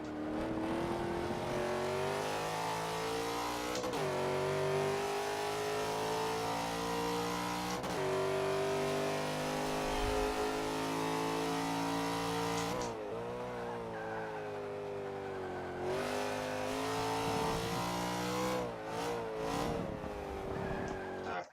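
A race car in a driving video game runs at full throttle, its engine droning loud and steady with rising and falling pitch through turns, plus some tire squeal near the end.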